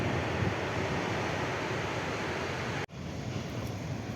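Night surf from the ocean along an Australian shore, a continuous rushing wash of waves with some wind, cut by a brief sharp dropout before the steady roar resumes.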